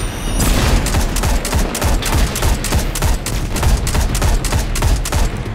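Heavy weapon fire in Destiny 2 combat, with dense, rapid, booming bursts that pound continuously and loudly from start to finish, with no voices.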